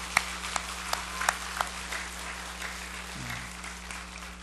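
A church congregation applauds during a Sunday worship service, a steady, moderately faint patter of many hands with a few sharper claps standing out early, under a constant low hum.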